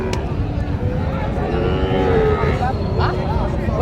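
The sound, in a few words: young bulls at a cattle market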